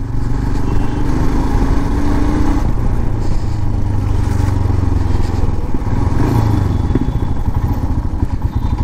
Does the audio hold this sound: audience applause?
no